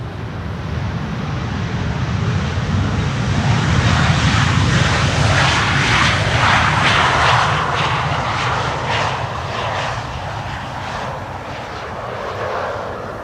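An Embraer 190 jet landing on Schiphol's Polderbaan runway 18R makes a loud, broad roar that swells to a peak midway. Rumbling and gusty noise continues, then eases slightly without fully fading, with no voices.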